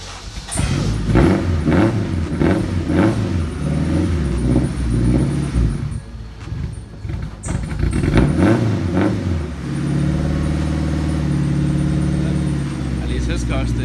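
A turbocharged Acura RSX engine rumbles and revs steadily close by, its low drone running throughout the clip, with loud bursts of acceleration early on and people talking over it.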